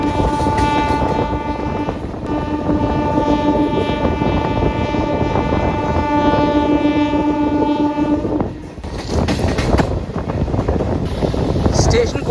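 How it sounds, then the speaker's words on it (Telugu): A Rajahmundry–Visakhapatnam special express pulls out of Kadiyam station, its horn sounding in long steady tones for several seconds while the wheels rumble loudly beneath, then the rattle of the moving coaches carries on after the horn stops. "మన ట్రైన్ అయితే కడియం నుంచి బయలుదేరిపోతుంది"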